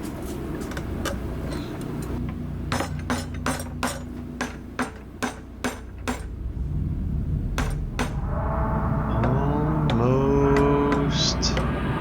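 Hot steel tomahawk head being hammered straight at a vise, a run of sharp, evenly spaced ringing metal strikes close by over a steady background roar, followed by a brief clinking and scraping.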